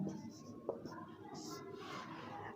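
A pen scratches across paper as a trigonometry solution is written out, a close, faint run of uneven strokes and taps with a voice speaking alongside.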